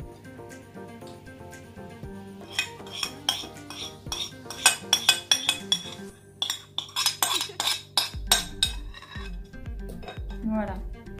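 Spoon clinking and scraping against a bowl while mashed banana is stirred into a homemade hair mask of egg yolks and honey, with a quick run of sharp metallic taps in the middle and softer stirring toward the end.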